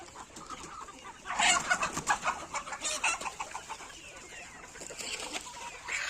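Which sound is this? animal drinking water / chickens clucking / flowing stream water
chickens clucking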